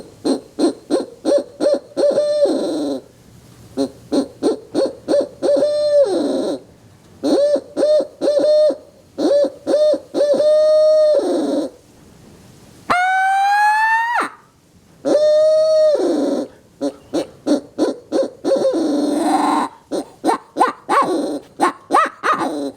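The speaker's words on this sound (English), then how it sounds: "Got everything you want in an owl call, guys." A Boogie Man barred owl call, a mouth-blown hunting call made for turkey hunting, sounds a long series of loud, close hoots in rhythmic bursts, with one rising, laughing scream partway through.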